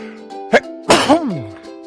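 A short cartoonish sneeze sound effect from the game Final Fantasy IX, a quick sharp burst followed by a louder sneeze with a falling tail, over a faint musical background.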